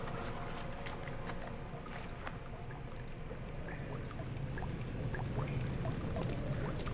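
Wading through water in the Amnesia horror game: a continuous watery slosh and pour-like wash with scattered splashy ticks, steady throughout.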